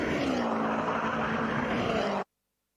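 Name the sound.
Subaru Impreza WRC-inspired time attack car engine burble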